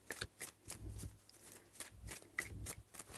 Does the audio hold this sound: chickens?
no